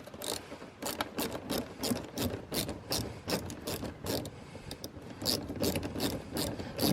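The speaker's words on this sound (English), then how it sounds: "the first thing I'm gonna remove is this bolt right here" Ratcheting tool backing a bolt out of the front bumper of a Toyota RAV4 Prime SE, a fast, steady train of close, crisp mechanical clicks running throughout with no talk.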